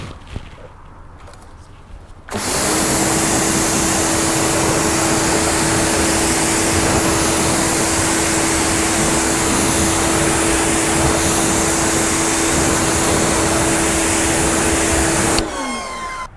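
Pressure washer rinsing tyre cleaner off a car tyre, switched on abruptly and running as a loud, steady spray and motor hum with a constant whine, then cutting off near the end, with no talking.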